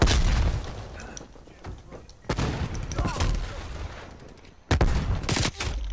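Pistol fire crackles in the shooter game Black Ops Cold War, with loud bursts of rapid shots and booming impacts separated by quieter stretches.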